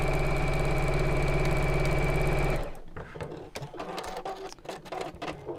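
Sewing machine stitching quilting lines on a cushion cover, a steady loud rapid mechanical whirr for over two seconds that then stops abruptly, leaving faint clicks and handling noises.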